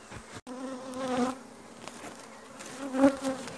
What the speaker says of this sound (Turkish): Şimdi bakıcı arıları atacağım.